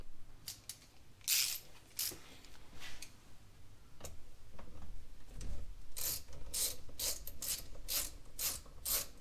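Socket wrench ratcheting in quick clicking bursts on a Chrysler 300S during a push-to-start kill switch install, sharp metallic ticks in uneven runs with short pauses, close up and fairly quiet.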